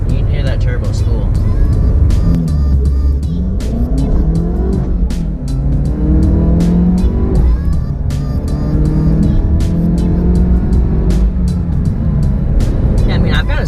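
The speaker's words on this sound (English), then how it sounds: "Turbo spool." A Chevrolet Camaro engine fitted with a ZZP silicone intake revs and climbs from inside the car, a loud continuous drone with rising pitch sweeps, as someone talks over it.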